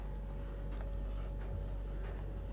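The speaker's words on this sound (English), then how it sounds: "let me write with this" Chalk or marker writing on a board during a physics lecture on the Schrödinger wave equation, soft scratchy strokes over a steady background hum, faint and close with no talking.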